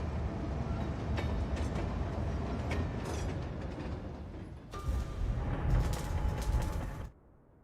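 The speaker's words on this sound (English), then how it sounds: "Trains are legit." Trains running in Cities Skylines 2, a continuous mechanical rumble with clanking, creaking and ratcheting textures that swells near the end, then cuts off abruptly.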